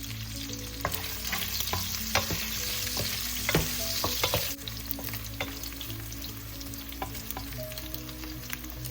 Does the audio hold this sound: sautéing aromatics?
yes